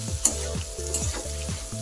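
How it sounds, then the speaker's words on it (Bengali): Soybean chunks fry in hot oil with a steady close sizzle, broken by a few rhythmic stirring scrapes across the pan; no voices. "সোয়াবিন গুলো সুন্দর করে এখন ভেজে নেব,"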